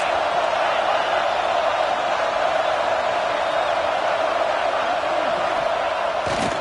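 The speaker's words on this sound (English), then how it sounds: "Listen to this crowd just shaking the girders of this place, trying to help their defense." A college football stadium crowd roars loudly and without a break, a dense wall of cheering that rises as the home fans try to help their defense.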